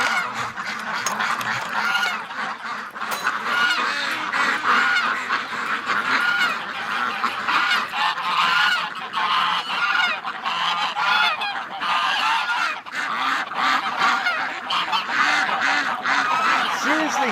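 A flock of ducks released from their pen on a winter day erupts in continuous loud honking and quacking, many birds calling at once close by for the whole stretch.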